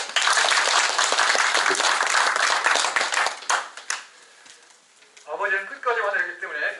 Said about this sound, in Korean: 자, 박수 한번 크게 치고